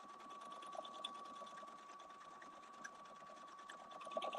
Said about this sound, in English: it's going to sew one repeat of this, and it's going to stop, tie a knot, and complete the sew out